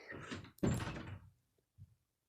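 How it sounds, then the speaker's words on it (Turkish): Indoors at home, a door shuts with a sliding rush and then a solid thunk, followed by a softer knock a moment later. "Kapıyı kapattı annem galiba"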